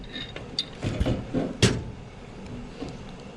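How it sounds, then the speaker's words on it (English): A pipe wrench loosens the big union nut on a gas pipe, giving a few close metallic clicks and creaking knocks clustered in the first two seconds before the sound settles into quiet. "This fitting right here that I'm working on, it's called a union. So this big nut, I loosen it."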